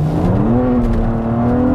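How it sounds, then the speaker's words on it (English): A 2012 BMW Z4 sDrive35is accelerating hard in first gear with wheel spin, a loud, close engine drone rising steadily in pitch inside the cabin, with no talking. "Oh, wheel spin. Wheel spin. You see the wheel spin right there."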